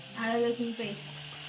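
Garlic paste hitting hot oil in a pan, a short burst of sizzling and frying with a brief stir, close and fairly loud, alone.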